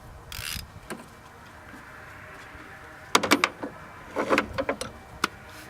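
A socket wrench ratchets while tightening a spark plug. Two short, close bursts of rapid metallic clicking are heard after a quiet stretch with a faint earlier rustle.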